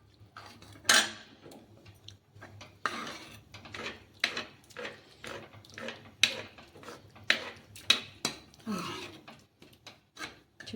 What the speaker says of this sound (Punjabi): ਇਹ ਕੜਛੇ ਪਰ ਮੈਸ਼ ਕਰ ਦਿੰਨੇ ਆ